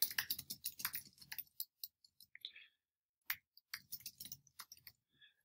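Bursts of quick typing on a computer keyboard, rapid close clicks in uneven flurries separated by short pauses and a few isolated taps.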